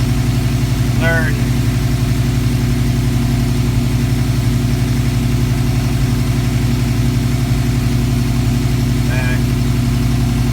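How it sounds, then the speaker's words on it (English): A car engine fitted with Holley Sniper fuel injection idles at about 1300 rpm with a steady, even low rumble, close by and continuous, with a couple of brief faint chirps above it. "Idling out at 1300, which is a little high."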